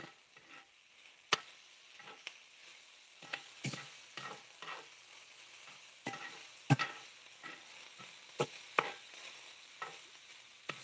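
Bacon frying in a pan gives a quiet, steady sizzle, broken by sharp clicks and scrapes from stirring that come at irregular intervals.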